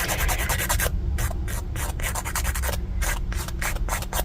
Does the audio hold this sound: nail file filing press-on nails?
yes